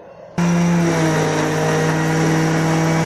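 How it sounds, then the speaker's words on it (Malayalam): A kitchen blender whirs loudly and steadily, blending lemons with about one and a half glasses of water for lemon juice, starting abruptly and cutting off at the end. "ഇനി ഇതൊന്നുകൂടി ഒന്ന് അടിച്ചെടുക്കാം കേട്ടോ."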